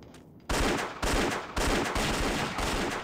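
Rapid gunfire in Indiana Jones and the Infernal Machine, a series of loud close shots in roughly half-second bursts, repeating steadily after a brief quiet start.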